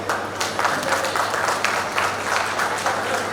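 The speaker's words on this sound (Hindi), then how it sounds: "ताली से स्वागत" An audience at a fish merchants association's golden jubilee celebration claps to welcome a guest, a dense burst of applause pulsing in waves at moderate loudness.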